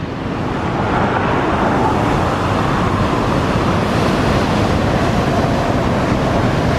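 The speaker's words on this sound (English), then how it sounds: "water crashes over the rocks and also comes in underneath and then drains back down" Stormy ocean water surging over the rocks at Thor's Well on the Oregon coast, a loud, steady roar of crashing surf and wind with no talking.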